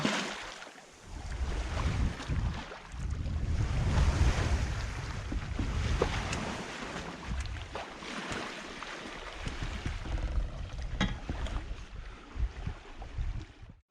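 A sailboat running under spinnaker in wind and waves, with continuous rushing water along the hull and gusty wind buffeting the microphone, loud and sustained throughout.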